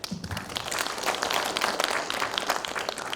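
An audience at a Korean regional literature poets' exchange gathering claps in welcome, a dense, even spread of many hands at moderate loudness that carries on steadily from start to end.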